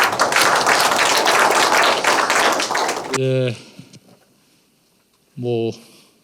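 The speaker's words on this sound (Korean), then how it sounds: "1부 사회에서 고생하신 우리 박조수 부대표님께 박수 부탁드리겠습니다." The audience at a presidential-election debate forum in Seoul claps briskly and densely for about three seconds, then stops abruptly. A speaker's voice follows with short phrases separated by quiet pauses.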